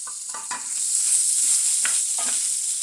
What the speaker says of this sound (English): you're gonna just let that move around the pan a little bit while it's getting hot